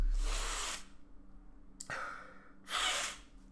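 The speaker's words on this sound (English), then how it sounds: "I feel like I need to sneeze." A sharp, breathy sneeze burst, followed by a quick catch of breath and a second forceful sneeze, close and loud with no talking.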